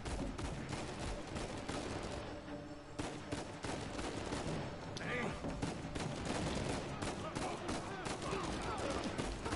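Bursts of gunfire in the video game Uncharted 4, dense repeated shots running throughout at steady loudness, with players talking over the action.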